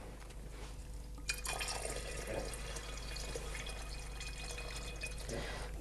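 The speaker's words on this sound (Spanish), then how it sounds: "Entonces vamos a ir llenando el agua." Water streams into a pot of dried white beans, starting after a brief quiet moment and then continuing as a steady filling splash and trickle, fairly soft and close, with no talking.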